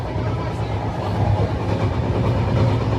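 Steady low rumble and rattling clatter fill the cabin of the moving Ruposhi Bangla Express from Dhaka to Benapole, a continuous loud interior train noise with no speech.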